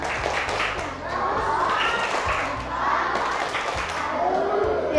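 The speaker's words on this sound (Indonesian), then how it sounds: "Kita beri tepuk salut." Elementary school students in a mathematics class clap together for a group, a dense burst of classroom clapping with children's voices and crowd noise underneath, close and lively.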